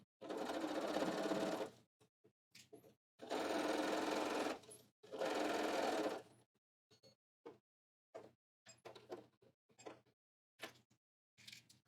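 A sewing machine stitches a pocket in three sustained whirring runs of about a second or more each, followed by a series of short stop-start bursts, close and clear with no talk.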